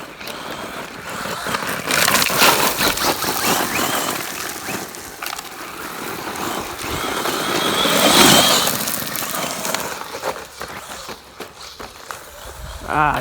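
A Traxxas Slash 2WD brushless RC car tearing around outdoors and jumping a pile, its electric motor whining and surging through loud passes, with gravel crunching and someone talking over it.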